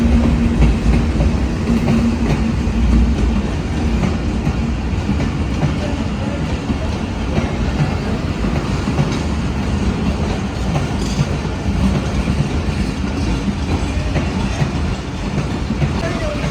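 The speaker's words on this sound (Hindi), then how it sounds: "तो ये मेरे फेवरेट लोकोमोटिव AG30 के साथ आ रही है 10 डाउन अल्लामा इकबाल एक्सप्रेस।" Allama Iqbal Express passenger train hauled by an AG30 locomotive pulling into Nawabshah railway station, a loud continuous rumble with clattering wheels and wagon noise filling the platform, with a voice talking over it.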